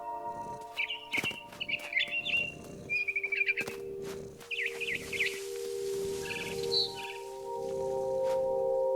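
A barn swallow in What Remains of Edith Finch chirps in quick, bright twittering bursts, close and lively, over a soft rustle and low game ambience, with a sustained tone emerging later.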